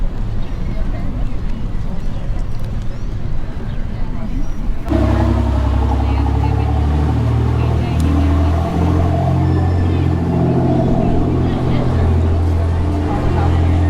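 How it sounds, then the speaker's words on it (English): A fast motorboat roars past on open water off Galveston, Texas, its loud engine rumble dominating, while people talk nearby. "That's a fast boat"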